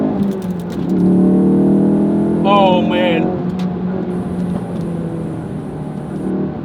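An 18-year-old's Ford Focus RS engine revs hard toward 7,000 RPM on a winding road, a loud sustained drone rising and holding with cabin noise, while a driver exclaims briefly midway.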